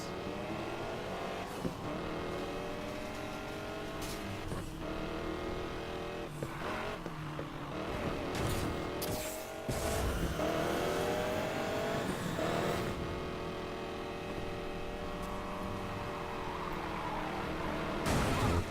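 Race cars roar through a city sprint race in Need for Speed Payback, engines revving and shifting through gears, with loud sustained whine, sudden bursts and passing swooshes.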